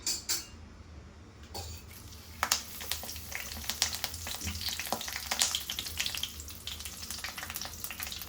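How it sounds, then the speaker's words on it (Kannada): Curry leaves hit hot oil and crackle in a continuous close sizzle, with sharp metallic clinks and scrapes from a utensil against the pan throughout and no voices. "ಫಸ್ಟ್ ಕರಿಬೇವು ಹಾಕೋಬೇಕು."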